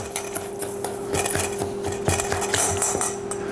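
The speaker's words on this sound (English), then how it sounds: "I'm going to mix it around a little bit with my mixing spoon here" A mixing spoon stirs a dry mix of cinnamon, nutmeg, oats and brown sugar for apple crisp, giving soft repeated scraping and clinking against the bowl at a steady rhythm, close and moderately loud.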